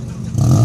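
A yellow Honda car's engine revving at a Japanese car meet exhaust contest in Ljubljana, a brief rising rev that swells louder with deep exhaust rumble in the second half.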